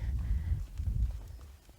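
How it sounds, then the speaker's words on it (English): A horse's hooves step and shift on the ground during groundwork training, with soft, low, irregular footfalls up close and faint clicks scattered through the clip. "Push that horse away from me, drifting away."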